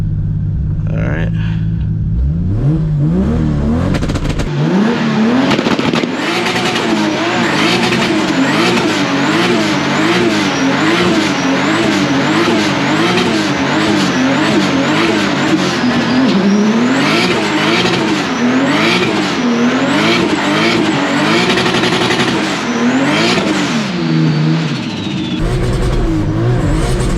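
A 1000-horsepower Toyota Supra does a driveway burnout on line lock. The engine roars and revs hard, with a warbling, rising and falling note and tire squeal, loud and sustained almost throughout.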